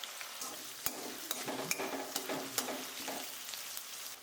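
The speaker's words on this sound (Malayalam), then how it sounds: "നമുക്ക് ആ എണ്ണയിൽ തന്നെ സവാള ഒന്ന് മുരിച്ചെടുക്കണം." Sliced onions fry in hot oil left from toasting cashews and raisins for mutton biryani, a steady soft sizzle with a few sharp stirring clicks scattered through, fairly quiet and with no talk.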